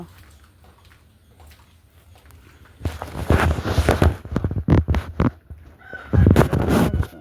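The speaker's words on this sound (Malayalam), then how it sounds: "സൊണാലി കോഴിയാണ് ഇത്" Sonali breed chickens clucking and scratching about in cages at close range, with brief bursts of activity after a quiet start, no talking.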